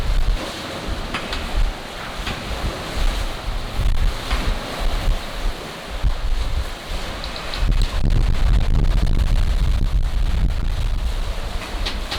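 Rough Pacific Ocean surf crashes continuously while strong wind buffets the microphone, building to a louder, steady roar in the second half.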